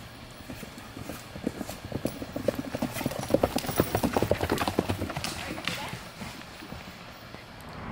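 Hooves clip-clop steadily as a horse is ridden, a rapid, even beat of close thuds that swells in the middle and then eases, with some breathy noise mixed in.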